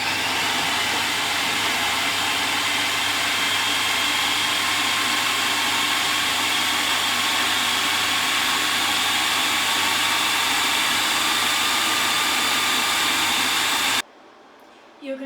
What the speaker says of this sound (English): once everything's in the blender, what we're going to do is we're going to give it a quick blitz and we're going to make it into a paste